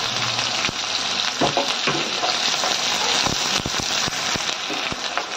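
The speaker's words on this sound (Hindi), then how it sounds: "इन्हें हल्का सुनहरा होने तक भून लेते हैं" Onions and green chilies frying in oil in a pan, giving a loud, steady sizzle with scattered crackles and pops throughout, close up and without talk.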